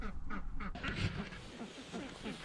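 Ducks kept on pasture for egg production give a few close quacks in quick succession, fairly soft against an outdoor background.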